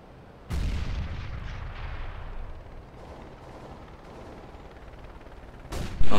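A grenade blast followed by gunfire in the video game CS:GO, opening with a loud sudden boom, then a rumbling stretch of shots, and ending with another sharp burst.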